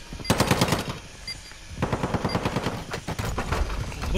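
Automatic gunfire in Call of Duty Warzone 2.0, two rapid bursts of machine gun fire, the first short and the second longer and rattling, loud and near with no talking.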